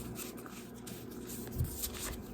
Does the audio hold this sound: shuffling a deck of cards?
yes